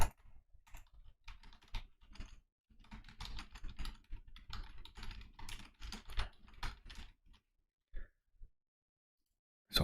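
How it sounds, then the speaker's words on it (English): Keys tapped in irregular bursts on a computer keyboard during live open-source software development work, clicks fairly close and moderately loud, clustered between pauses with no talk. "Oh man, I cannot type."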